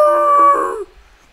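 A single loud, close dog howl in a video game, drawn out for under a second and then breaking off into near silence.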